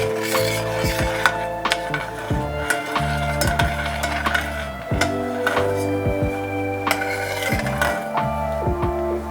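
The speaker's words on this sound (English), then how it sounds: "And give it a mix." A spoon stirs raspberry paste into a sweet keto muhalabia mixture in a pan, giving repeated scraping strokes and light metallic clinks against the pan, close and steady with no talking.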